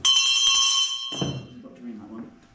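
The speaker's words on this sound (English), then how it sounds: "I've got to ring that one. It's basically a school bell" An ARP all-clear bell, basically a school bell, rings in a loud, sustained metallic peal for about a second inside an underground air raid shelter beneath St Nicholas Market, then cuts off and gives way to a lower murmur of voices.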